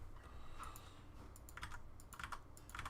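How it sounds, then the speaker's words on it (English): Someone tapping on a computer keyboard during a live stream, scattered bursts of light clicks coming in small clusters, faint against a low steady room hum, with no talking. "just my computer keyboard. No MIDI keyboard involved."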